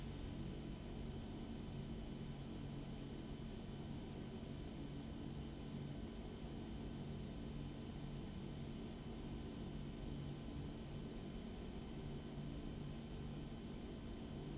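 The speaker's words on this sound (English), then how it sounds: "increasing the power with the throttles until we reach approximately 85 to 95 knots" Epic EG1000 aircraft engine in X-Plane 11 at high power for takeoff, a steady loud drone with constant broadband roar and low hum, unchanging throughout with no talk.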